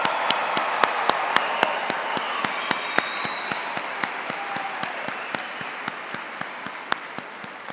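A crowd applauds a graduating class of 2016 in a long, full round of clapping, with a few sharp, regularly spaced claps standing out above the steady applause.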